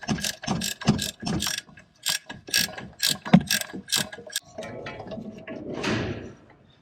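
A ratchet wrench works loose the bottom bolt on a Ram Charger, giving quick bursts of rapid metallic clicks in several short runs, close and fairly loud, followed by a softer scraping rustle.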